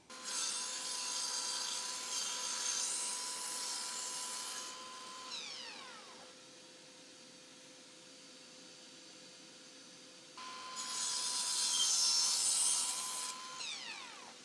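A miter saw cuts a wood piece at a 36-degree angle for a 3D wooden star, its motor whining through the cut, then spinning down into quiet before a second run starts up, all fairly faint.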